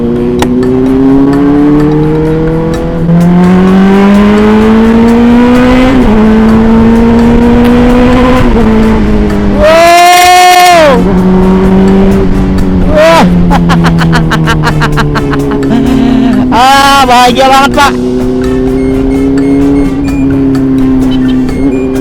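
A Honda CBR 600 motorcycle engine revs loudly and continuously, with rising and falling throttle blips and sharp high-pitched spikes, while people talk briefly over it.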